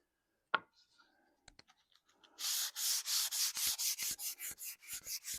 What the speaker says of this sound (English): I'm just going to very lightly sand this over, take any of the fuzzies off.